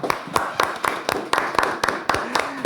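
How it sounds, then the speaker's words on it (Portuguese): A small podcast studio audience claps to greet a guest: a handful of hands beating in a loose, fairly regular rhythm of distinct claps at close range, with faint voices underneath. "Uma salva de palmas para ele"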